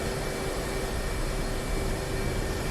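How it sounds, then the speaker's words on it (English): F/A-18C Hornet jet taxiing on the ground in DCS World, a steady, loud, broadband engine roar with a constant whine, uninterrupted and alone throughout. "We're doing a little bit of a faster taxi, guys."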